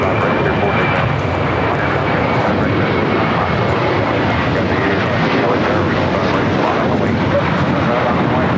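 An Alaska Airlines Boeing 737-800 jet takes off at LAX, bound for Loreto, with a loud, steady engine roar filling the whole stretch while a voice talks over it.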